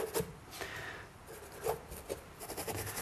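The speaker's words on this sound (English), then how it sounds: "Now I'm just scrubbing across the canvas" A paintbrush scrubs across canvas with soft, dry rubbing strokes that come in irregular bursts, faint and close.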